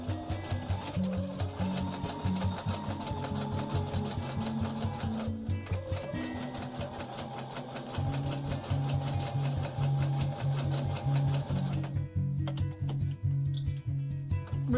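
A sewing machine runs zigzag stitches down elastic on a fabric face mask, a close rapid mechanical chatter in continuous bursts with brief pauses and changes of speed between runs.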